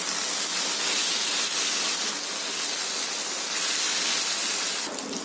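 Taro stolons frying with turmeric, cumin and chili powder in a pan, a loud, continuous broadband sizzle up close that holds steady throughout.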